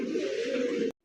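A fancy racer gola giribaz pigeon gives a single short, soft coo. It is close and alone and ends after about a second.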